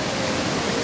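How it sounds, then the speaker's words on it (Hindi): Steady rushing water of Naddi waterfall, a dense continuous roar heard close and fairly loud, with no voices over it. "ओ, ये है वाटरफॉल।"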